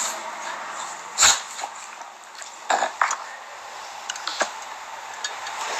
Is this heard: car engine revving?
no